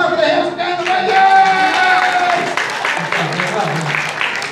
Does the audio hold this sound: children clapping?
yes